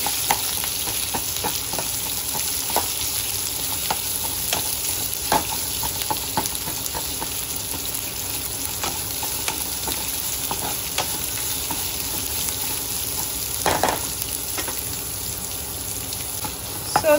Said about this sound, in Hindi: आमगेलो कांदो लो फ्लेमीचेर फ्राय जाता